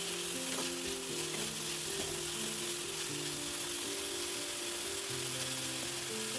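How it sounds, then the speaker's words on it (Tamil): Sliced onions sauté for a South Indian egg gravy, crackling and sizzling steadily in a hot pan for the whole stretch, with a dense, even hiss and faint stirring, and no voice. "வெங்காயம் நல்லா கண்ணாடி பதம் வர வரைக்கும் நம்ம வதக்கி விடலாம்."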